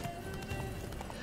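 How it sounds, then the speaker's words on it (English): Horse galloping in The Witcher 3: Blood and Wine, a steady run of clip-clop hoofbeats close by, with a faint whinny-like tone and a low game ambience underneath. "Run, Roach."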